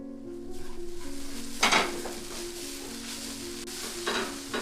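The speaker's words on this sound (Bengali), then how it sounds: "এবার এখানে পরিমাণ মতো নুন এবং ভাজা মশলা মিশিয়ে নিচ্ছি।" Fried broccoli being stirred with salt and fried spices in a pan, with a steady sizzle under a low hum and a few sharp scrapes and clinks of the spoon against the pan.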